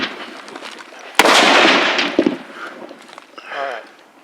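A single sharp, loud M1 Garand rifle shot at an outdoor firing range cracks out, followed by its rolling echo and a few softer clatters and handling noises nearby.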